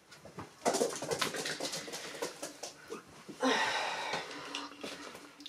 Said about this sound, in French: C'est ce Gremlinsou qui me perturbe et qui arrête pas d'aboyer, mais on sait pas pourquoi.